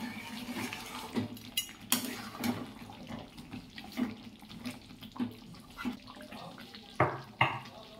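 A spoon stirs coriander chicken curry in a pan in irregular clanks and scrapes over a soft, watery bubbling, with occasional louder knocks against the pan.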